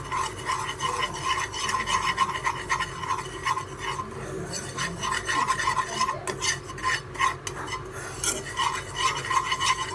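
Flour sautéed in ghee over a low flame is worked with a spatula in a pan, producing continuous close scraping and rubbing strokes in a steady rhythm, with no voices.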